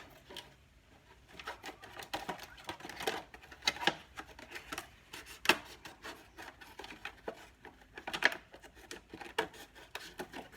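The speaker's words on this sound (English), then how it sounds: "on the other side we're going to cut out the plastic" Scissors or a blade snipping and rubbing through the thin plastic of a container being cut out for balcony seedlings, a run of irregular crisp clicks and scratchy bursts, close and moderately loud with no talk.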